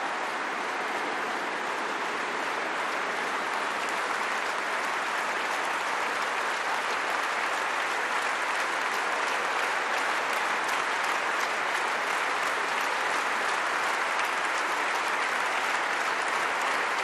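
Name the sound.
applause at a political party congress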